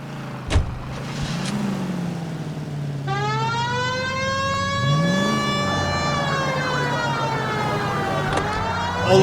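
A police car siren in the 2011 game L.A. Noire wails up and settles into a steady rising-and-falling tone over a running car engine, loud and close, after a brief thump at the start.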